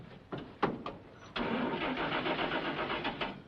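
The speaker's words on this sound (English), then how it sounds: "There's nothing wrong with this truck. Step on a starter." An army truck's starter cranks with a few short bursts, then the engine catches and settles into a steady, loud idle-to-running rumble close by.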